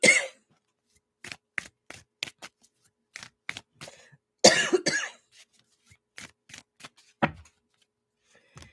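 A person nearby coughs in short dry bursts, scattered clusters of separate coughs with a louder fit in the middle and quiet gaps between them, with no speech over it.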